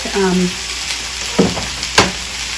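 Garlic sizzles steadily in a pan on a lowered heat, a close soft frying hiss with a few sharp clicks and clatters of a utensil, and a brief bit of speech at the start.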